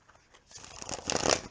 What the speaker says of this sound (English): So riffle shuffle is good.